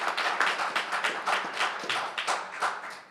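An audience at a policy forum claps, a scattered round of hand claps with irregular rhythm, moderately close and fading slightly toward the end.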